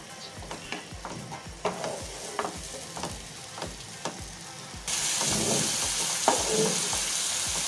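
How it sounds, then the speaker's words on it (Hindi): Masala sizzles and fries in a pan while a utensil scrapes and stirs in regular strokes; the sizzle grows louder and steadier halfway through. "इसे थोड़ा सा भून लेते हैं ताकि इसकी रॉ स्मेल चली जाए"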